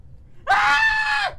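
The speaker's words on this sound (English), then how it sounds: "He screamed." A man lets out a single loud, high scream lasting under a second, sharp and close, with only quiet background before it.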